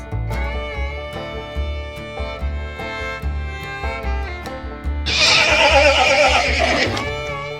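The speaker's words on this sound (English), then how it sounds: "Horse, horse," A horse whinnies loudly for a couple of seconds over steady background music, rising out of the melody near the end.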